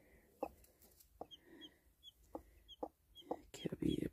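A desi hen with chicks clucks in low, evenly spaced bursts, then breaks into louder, agitated clucking at the end, close by in a quiet setting.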